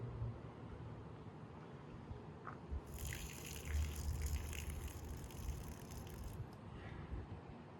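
Water poured from a homemade yellow-legged hornet trap through a colander, a quiet low splashing stream that swells into a brighter gush for a few seconds, then trickles back down.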